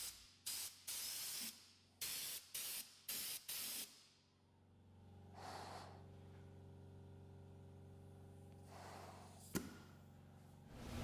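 Lanolin undercoating sprayed onto a vehicle's underside, transmission crossmember and axle, from an aerosol can, several short sharp hissing bursts in quick succession, then fainter softer hisses over a low steady hum.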